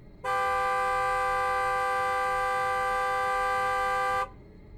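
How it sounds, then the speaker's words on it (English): A car horn blasts in one long, loud, unbroken tone of about four seconds, close and alone, then cuts off abruptly. "Then suddenly, the car horn blasts."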